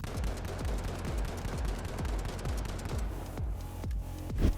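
An LH1 rifle in The Finals fires a steady stream of evenly paced single shots, each a sharp crack with a short low thump, about five per second, loud and close before tailing off into sparser reports.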